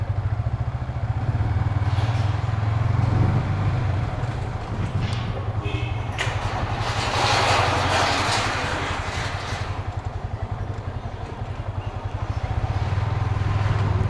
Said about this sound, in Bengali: ৩ দিন পরে একদম ফার্স্ট টোকায় বাইক স্টার্ট।